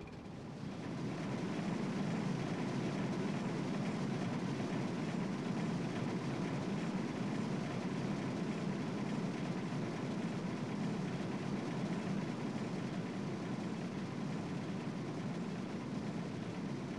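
A rollercoaster ride in the video game Rollercoaster Tycoon 3, heard as a steady, dense rumble of the train running along the track, loud and unbroken with no voices.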